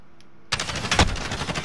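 Sudden rapid gunfire from a first-person shooter game bursts in after a near-silent moment, loud and dense with overlapping shots rattling in quick succession.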